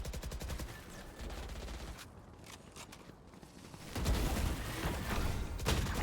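Video game gunfire from a Stinger submachine gun comes in rapid automatic bursts, loud and close, with a quieter stretch of mechanical clicks and footsteps between volleys.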